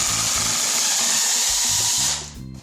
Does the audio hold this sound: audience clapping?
no